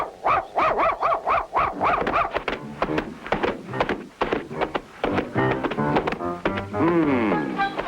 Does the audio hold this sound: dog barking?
yes